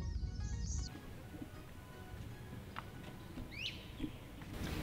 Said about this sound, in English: we think it might be some kind of warbler